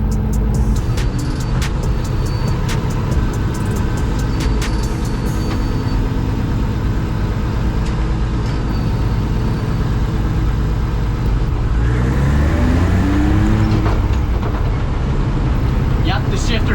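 A car with a tuned engine and launch control rumbles loudly and continuously as it drives on the street while warming up, with a rising engine note near the end.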